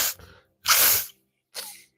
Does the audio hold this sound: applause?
no